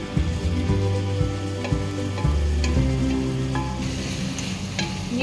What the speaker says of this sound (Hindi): अब थोड़ा सा मैं इन्हें भूनूंगी, हल्का सा।